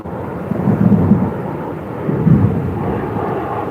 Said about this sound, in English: It's pretty beautiful to hear the thunder.